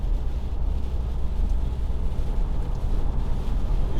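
A 2011 Audi A5 Sportback 2.0 TDI S Line cruises along the road in sixth gear near 70, giving a steady low cabin rumble of road and wind noise with a broad even hiss. No one speaks.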